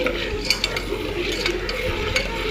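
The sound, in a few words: popcorn kernels starting to pop while stirring in a pan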